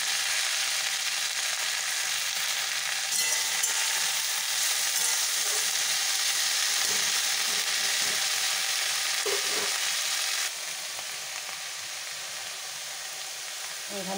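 Fourteen kinds of washed leafy greens frying in oil with tempering spices, giving a continuous loud sizzle with occasional stirring clinks; the hiss softens slightly toward the end.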